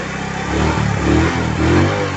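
A motorcycle engine runs loud and close right after starting, with a steady low throbbing that swells and surges in a few brief rev-like pulses.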